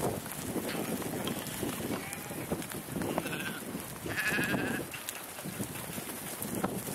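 A flock of fresh lambs bleats intermittently, faint to moderate against a steady noisy outdoor background, with several overlapping calls.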